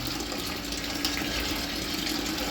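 Water drains from a steam boiler in a steady, rushing gush, close and continuous with a broad hissing wash and no pauses.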